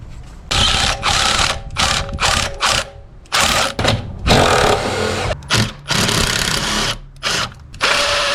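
A power tool or ratchet spins in repeated short bursts with gaps between them, loud and close, while a bolt on the heater hose of a 1999 Dodge Intrepid 3.2L is removed.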